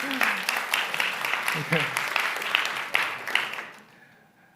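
Audience applause follows a speech at the Cannes Lions 2019 festival: a dense, steady clapping from a large crowd that thins out and fades near the end, with a brief spoken word over it.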